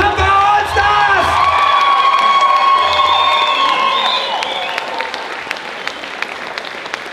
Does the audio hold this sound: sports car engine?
no